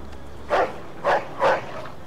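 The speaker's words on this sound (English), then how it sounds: "Should probably wait till that dog goes away." A dog in the video game Mafia 2 barks three times in short, separate bursts at moderate distance, over a quiet ambient background.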